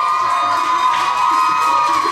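A crowd of children at a summer camp stage contest cheers for a team taking the stage, a sustained, loud mass of shouting and cheering with steady shrill tones running through it.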